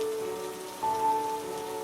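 A rain shower pours down steadily as a dense, even patter on surfaces, with a faint tonal hum underneath and no voices.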